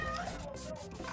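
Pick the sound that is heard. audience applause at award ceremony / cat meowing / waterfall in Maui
cat meowing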